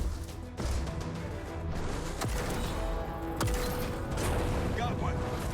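Rapid gunfire and mechanical clatter from the mech tactics video game Phantom Brigade, a dense continuous barrage with sharp individual shots standing out, close and loud, with voices talking over it.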